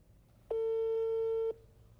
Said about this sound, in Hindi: मैं कॉल लगा रहा हूँ, होप फॉर द बेस्ट